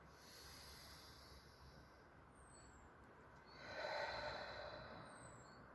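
Slow, deep nasal breathing, a soft airy hiss of inhaling and exhaling through the nose, faint and close with a fuller breath swelling midway, no talking.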